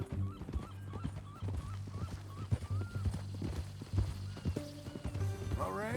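Steady clip-clop of horse hooves at a trot in Red Dead Redemption 2, close and rhythmic, over a low background drone with a few brief tonal sounds.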